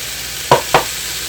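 Corn and peas drop into a hot pan with green onions, giving two quick sizzling bursts against a steady low frying hiss, close by and with no talk.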